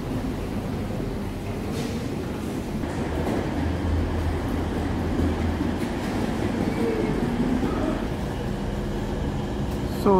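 Rumble and rolling clatter of trains at the platforms of Nuremberg main railway station, a continuous low drone mixed with wheel noise, faint station sounds and a sharp clunk at the end.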